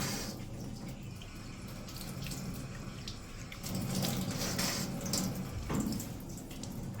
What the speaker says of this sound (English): So I will cup water in my hands.